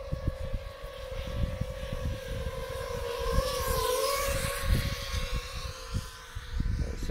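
A 7-inch FPV quadcopter drone with a large 10,000mAh battery flies with a slight motor oscillation, giving a steady, continuous propeller whine with a wavering pitch that rises and dips, fairly close and heard alone without voices.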